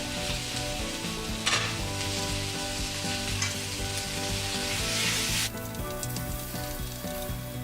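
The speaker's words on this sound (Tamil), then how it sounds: "வெங்காயம் பூண்டெல்லாம் கொஞ்சம் நல்லா வதங்கட்டும்" Onion and garlic sauté in a pan for a simple rasam, a loud steady sizzle with stirring scrapes. A droning tone runs underneath and drops in level partway through.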